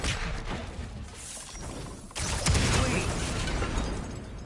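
A fire pot bursting in God of War Ragnarök: after steady loud action noise, a sudden explosive blast hits midway and gives way to a fuller, roaring rumble that fades slightly.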